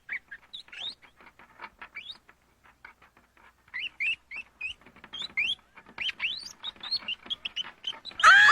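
Rats squeak and shriek in many short, high, overlapping chirps, sparse at first and growing busier, ending in one louder shriek, all close with no talk.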